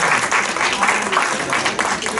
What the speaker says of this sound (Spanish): Un aplauso a mi suegra